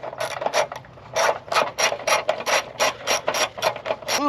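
A ratchet wrench loosens a 13 mm bolt in a series of close, sharp clicking bursts with short pauses between strokes.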